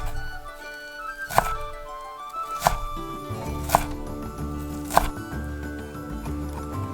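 A knife chops an onion finely on a board for a cream sauce, giving four sharp, evenly spaced thunks over steady background music.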